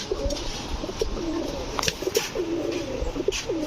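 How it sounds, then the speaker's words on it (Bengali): An orange chila female pigeon coos in repeated soft, throaty rolls close by, with small wing or movement noises in between. "এই হচ্ছে অরেঞ্জ চিলা, এটাও একটা মাদি কবুতর"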